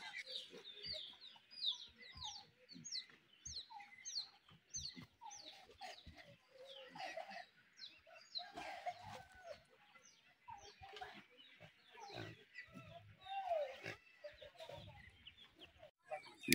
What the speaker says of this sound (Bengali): ওই যে পাহাড়ি মোরগ।